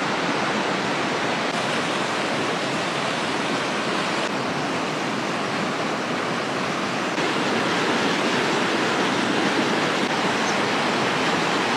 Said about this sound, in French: Et la rivière est splendide.